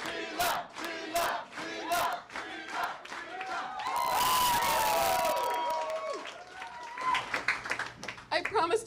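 Crowd of election-night supporters cheering, shouting and clapping in a hall as a winning candidate arrives, a loud sustained roar with scattered applause and whoops, swelling in the middle then breaking into bursts.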